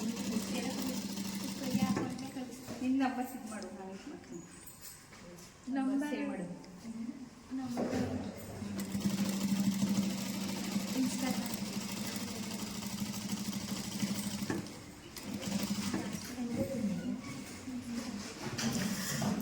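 Sewing machine running steadily while stitching the sleeve hem of a short kurta, a continuous mid-pitched whir with brief pauses, heard under someone talking throughout.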